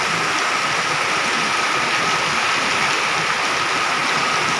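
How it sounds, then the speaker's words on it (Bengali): Heavy monsoon rain pours down steadily, a dense, loud hiss of water with no break, close by and with no voices over it. "দেখুন আপনি কী পরিমাণে বর্ষা হচ্ছে।"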